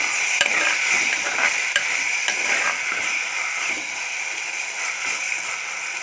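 Country tomatoes and onions are stirred and mashed in a hot pan for quail egg gravy, giving a steady close sizzle with continuous scraping and a few soft knocks of the spoon, with no talking.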